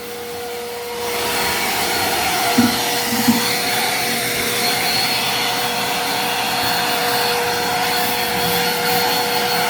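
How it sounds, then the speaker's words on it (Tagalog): A vacuum cleaner sucks up dust from a brushed surface ahead of waterproofing, running as a loud, steady whooshing drone throughout after a brief quieter start, with a couple of small knocks early on. "With vacuum cleaner."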